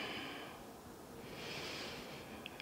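Slow, deep nasal breaths during a morning yoga stretch, a long airy inhale and exhale heard close and soft against a breathy background.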